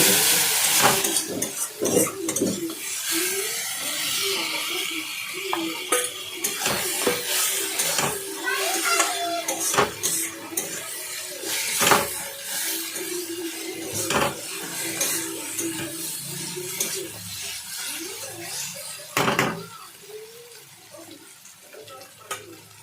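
Cut potatoes fry in a pan for a rohu fish curry, a steady hiss and sizzle with occasional clanks of a utensil against the pan, while a voice speaks over it.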